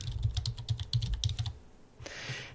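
Keys clack on a computer keyboard in a quick run of about a dozen light taps over a second and a half, close and fairly quiet, followed by a brief pause and a softer scrape.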